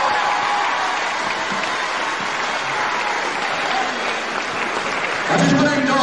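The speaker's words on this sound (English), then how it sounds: "I'm going to ask you once again for a round of applause for a gallant wrestler, Alan Kilby." A crowd at a 1981 British professional wrestling show applauds a wrestler, a dense, steady wash of clapping that swells slightly toward the end.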